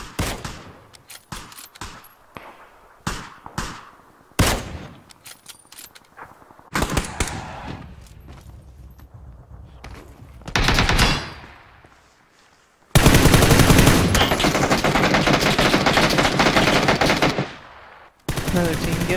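Gunfire in the video game PUBG: scattered single shots and short bursts, then a long, loud, dense stream of automatic fire close by, with no talking over it.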